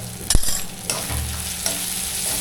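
Spices such as turmeric, coriander, cumin and red chilli powder being stirred into biryani in a frying pan, with a steady sizzle and a few sharp spoon scrapes against the pan, close and moderately loud.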